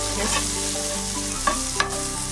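Okra (bhindi) fries in a pan while being stirred, giving a steady, loud, close sizzle with a few brief scraping knocks and no talk.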